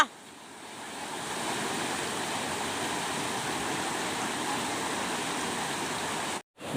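Flowing water of the Subarnarekha river, a steady, fairly loud broadband rush that holds evenly, then cuts out in a brief gap near the end.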